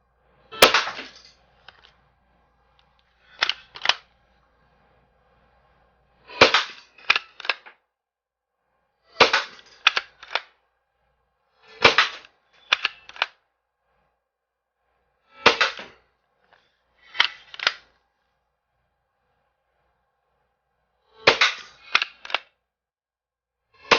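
Hahn Super Repeater lever-action CO2 BB repeater firing, sharp close cracks in short bursts of two or three, each followed by a lever clack, with gaps of silence between the bursts.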